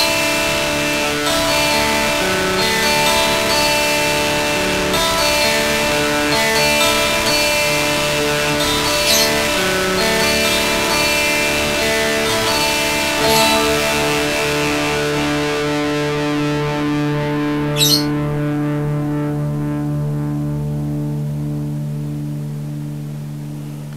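Electric guitar picked note by note through a Boss DS-1 distortion pedal, giving a continuous, loud, saturated stream of sustained notes that runs for over twenty seconds and slowly fades at the end, with no voices.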